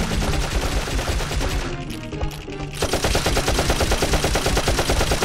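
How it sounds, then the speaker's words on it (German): Osmond's weapon in the video game Dark Cloud fires in rapid, loud bursts of shots with a short gap near the middle, then keeps hammering on, close and harsh with no speech over it. "Die Waffe von Osmond ist so mega laut gemacht worden"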